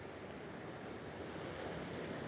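Ocean surf at an oceanfront setting, a continuous broad wash of waves with wind rushing across the microphone, steady and fairly faint, no voices.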